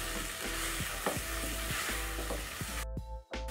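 Tomato paste being stirred into a simmering beef stew for matoke with green bananas: a steady close sizzle with a regular rhythm of spoon scrapes and knocks, then a brief pause near the end.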